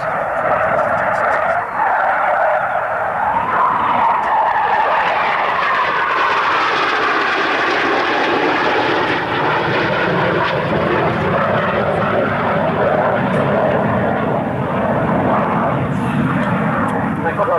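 A Panavia Tornado jet with its twin turbofans in reheat roars loudly past at an airshow, a sustained, shifting jet rumble across the whole stretch, with an announcer's voice faintly mixed in.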